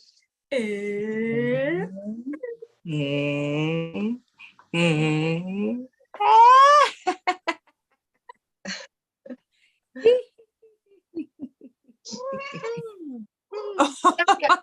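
Three drawn-out meows, likely a human voice imitating a cat, followed by scattered speech sounds and short vocal noises.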